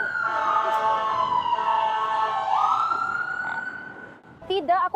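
A fire engine siren wails steadily as the truck passes, loud and sustained with a slight pitch shift as it moves by, then fades, followed by a brief burst of radio chatter.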